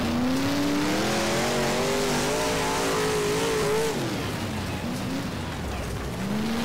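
A race car engine in the rFactor racing game revs loudly and continuously, its pitch rising and falling through shifts and corners, with a brief dip and recovery near the end.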